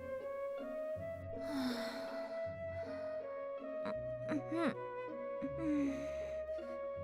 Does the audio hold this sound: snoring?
yes